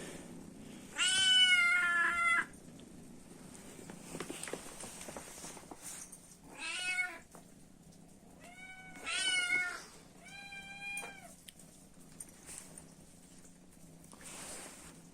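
Several distinct meows from a kitten, separated by pauses, with faint shuffling and footstep-like taps in between, in a village setting; the cries are close and clear.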